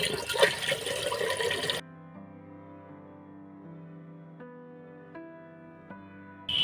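Water pours and splashes into rice-flour dough for khud bhapa in a home kitchen: a loud, close gush for under two seconds, then it stops and a soft tonal background continues alone.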